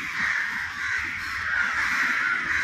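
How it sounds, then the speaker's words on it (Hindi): A large flock of crows cawing together, dense and continuous, a loud overlapping chorus with no single call standing out. "कौवे ऐसे रोज आते हैं"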